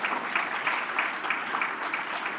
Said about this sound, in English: huge hand of applause